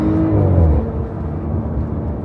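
Porsche Cayenne SUV engine running loud and close, a steady motor roar with a brief surge early on, with no distinct separate pops standing out.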